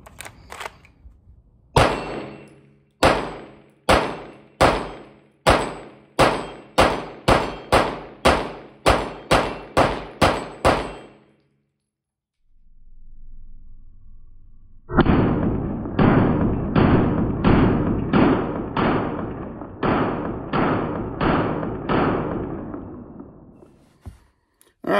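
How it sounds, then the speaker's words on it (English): A Staccato C2 pistol with a Genghis compensator fires a rapid string of sharp shots, then after a short pause a second fast burst of loud, close gunfire follows. "Rapid fire, the gun shoots flat."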